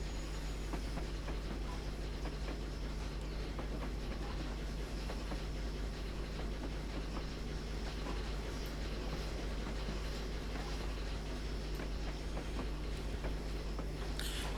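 The Flying Scotsman steam locomotive running on Scottish western lines in Train Simulator, a steady, dense rumble and rail noise holding at constant loudness throughout with no voices.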